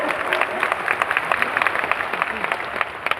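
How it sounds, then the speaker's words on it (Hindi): An audience at a Bhojli festival gathering in Raipur claps to welcome the Chhattisgarh governor, a brisk burst of crowd applause with scattered individual claps, close and fairly loud. "आप सब तालियां बजाकर उनका स्वागत करें, अभिनंदन करें।"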